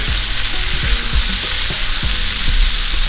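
Noodles with added greens tossed in a hot frying pan, loud continuous sizzling broken by several scraping, thudding tosses of the pan, close up and with no voices.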